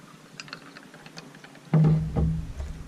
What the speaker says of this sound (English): We're going to pour this in here.